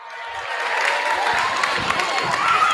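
A crowd at a lively group event cheers and claps continuously for participants called up front, with shouts and voices mixed into a steady roar of encouragement.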